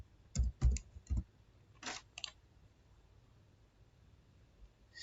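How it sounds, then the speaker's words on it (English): A few quiet, separate key presses on a computer keyboard, three quick clicks followed by two more after a short pause, then near silence. "Now let's type another one."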